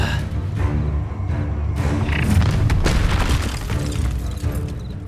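An Incendio fire spell booms in the Hogwarts Legacy video game, a loud rumbling blast with crackling bursts layered over dense combat effects, continuing for several seconds.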